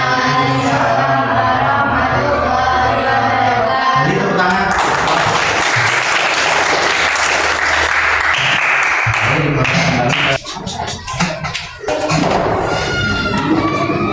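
A class claps after a group presentation during an Indonesian teacher-training session, with loud, busy clapping among students in a room over music-like background tones, then a brief dip before the noise resumes.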